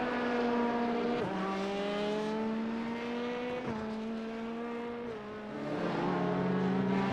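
Stock race cars lapping Daytona in a 24-hour endurance race: several engines howl past in succession, each with a rising then dropping pitch as it passes and shifts, loud and close with no talk.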